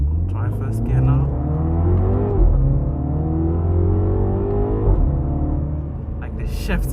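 A 2022 Mini Cooper John Cooper Works engine pulls hard in first gear, a loud close rumbling drone that climbs steadily in pitch, dips briefly around shifts or lifts, then builds again, with a voice over it.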